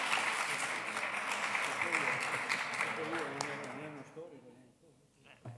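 An audience claps in gratitude at a talk, a steady wash of applause with voices speaking over it, tapering off toward the end as talk continues alone.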